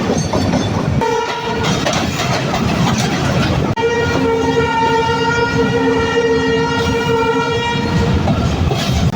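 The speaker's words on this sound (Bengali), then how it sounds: "একেবারে স্লো গতিতে আমরা টঙ্গী জংশন রেল স্টেশন প্রবেশ করছি" The Sirajganj Express rolls slowly into Tongi Junction station, a loud, continuous rumble and clatter of wheels on rails carrying a long sustained horn blast through most of its length, heard from aboard with no talk.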